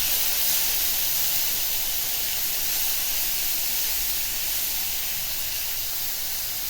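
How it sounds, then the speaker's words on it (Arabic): Tomatoes sizzle as they are sautéed in a pan for a homemade burger, giving a steady, loud, close hiss that runs unbroken throughout with no talking. "طماطمية بقى ونشوحها بقى التشويحه الجميله كده برضو"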